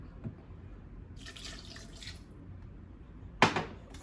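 Half a cup of water poured into a blender jar for a blended tube-feeding mix: a faint, brief trickle and splash, then one sharper splash near the end, with quiet background hum.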